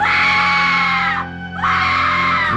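A woman's loud, sustained horror-film scream in the style of Fay Wray, two long shrill cries with a short gasp between them, alone and close.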